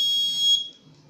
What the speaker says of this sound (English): It is giving the alarm.